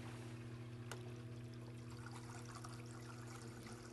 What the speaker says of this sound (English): make sure that you get the water flow even across your entire stone